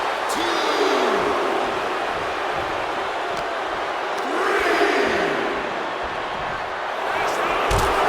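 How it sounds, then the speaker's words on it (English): A wrestling arena crowd roars loudly and continuously, the cheering swelling twice into bigger surges, with a few sharp impacts cutting through the noise. "Jacob Fatu feeding off the crowd, feeding off their energy"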